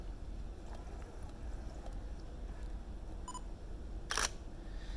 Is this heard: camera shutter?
yes